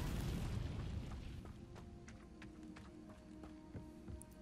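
A fiery Incendio spell blasts out in Hogwarts Legacy, a loud booming burst at the start that decays into crackling flame and scattered pops over steady game ambience.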